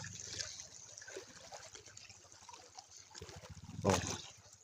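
Water splashing and trickling as a child is bathed, with soft continuous dribbling and a sharper splash near the end, close and moderately quiet.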